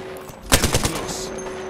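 Rapid burst of automatic gunfire in the Apex Legends ranked arena, several quick close shots packed into under half a second, followed by a lingering echo and game ambience.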